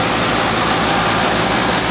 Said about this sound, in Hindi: आज हम आपको गुआरे की थ्रेशर दिखा रहे हैं। मेरी आवाज़ हो सकता है आप तक ना आए क्योंकि शोर बहुत ज़्यादा है।